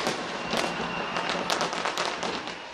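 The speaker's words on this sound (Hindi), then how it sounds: "स्काई टावर पर आतिशबाजी का शानदार मुजाहरा किया गया।" New Year's midnight fireworks display at the Sky Tower in Auckland, New Zealand: a dense, continuous wash of crackling bursts and scattered sharp pops heard from a distance, steady throughout with no talking.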